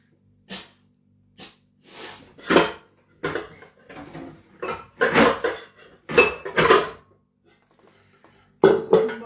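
Fish being cut up in a kitchen during Chinese-style home cooking: a series of irregular knocks, scrapes and clatters of knife and utensils on a board and dishes, close and fairly loud, with short pauses between bursts.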